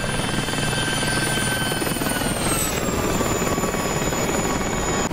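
Helicopters in the DCS flight simulator fly in toward a base with a loud, continuous rotor drone and engine whine that shift slightly in pitch as they pass, filling the scene with no talk.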